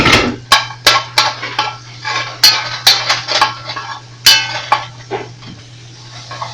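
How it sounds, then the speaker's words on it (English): Onions cooking in a pan with browned garlic are stirred with a utensil, giving a run of sharp clinks and scrapes against the pan over a soft, steady sizzle. "Now the garlic is slightly brown. I'm going to add the onions. And let it cook for a couple minutes."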